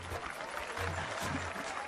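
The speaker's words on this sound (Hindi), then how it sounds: "तालियां बजाओ।" Group of people clapping in a dubbed South Indian film scene, a brief, continuous patter of applause, moderately distant and soft, with no voices over it.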